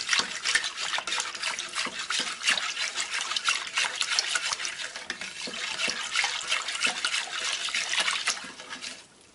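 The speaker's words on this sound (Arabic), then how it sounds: "دابا غنخويه هنايا في هذا الكيسان." A warm mixture of milk and yogurt is poured into cups, making a continuous splashing, trickling sound of liquid at close range. It runs steadily for several seconds, then tapers off at the end.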